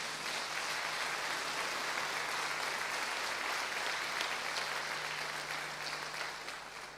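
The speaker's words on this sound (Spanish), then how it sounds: "Den un aplauso al Señor, por favor." Church congregation applauding in praise of the Lord, a dense steady wash of many hands clapping at fairly even loudness, fading slightly toward the end.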